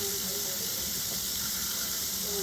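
Water runs steadily from a kitchen tap as a child helps with cooking and washing, a continuous close hiss with a faint squeal, no voices heard.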